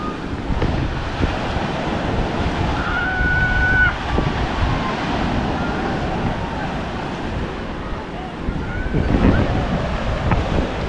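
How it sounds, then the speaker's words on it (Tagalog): Strong ocean waves crash over seaside steps in the Philippines, a steady loud roar of surf with wind buffeting, rising to a heavier surge near the end, with faint voices in the background. "Lakas ng alon, no."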